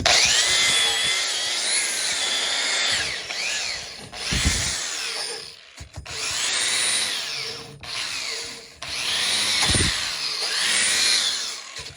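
A power grinder works rusted metal on the power traction hitch of an Oliver 5440 plow, a loud, harsh whine in long bursts that dip and surge as the tool bites and eases off, with no talk.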